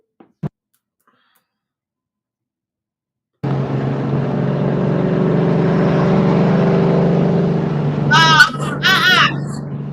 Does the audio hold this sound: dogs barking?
no